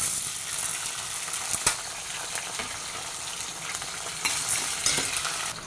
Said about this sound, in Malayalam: ഇത് നന്നായിട്ട് ചുവന്ന വരുവോളം നന്നായിട്ടൊന്ന് വറുത്ത് കൊള്ളണം.